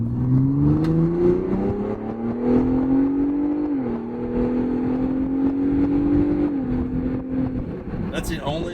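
A 2023 Ford Bronco Raptor in sport mode accelerates from inside the cabin, its engine note climbing steadily through two gear shifts, loud and near, with a voice talking over it.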